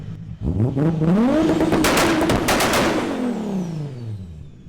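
A 700 hp Toyota Supra does a huge burnout, its engine revving hard and climbing in pitch, then falling away, with popping crackles from the exhaust over a loud, close roar.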